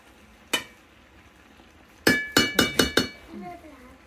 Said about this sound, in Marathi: आता कढई काढून ठेवायची